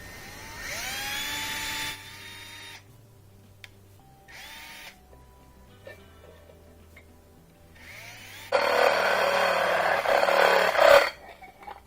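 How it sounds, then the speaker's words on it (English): A power drill whines in a few short bursts, then grinds loudly and harshly for several seconds as it bites through a plastic container, stopping abruptly. "Use a drill to start it."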